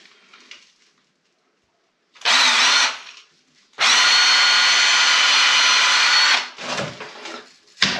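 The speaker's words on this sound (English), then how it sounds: "So we just pre-drill here." A power drill bores a pilot hole into a mudbrick wall, running in two loud bursts: a short one of under a second, then a steady run of about two and a half seconds before winding down.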